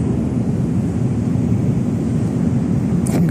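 Airplane cabin noise in flight, a steady low, dense roar of engines and airflow that holds constant throughout, with a faint brief click near the end.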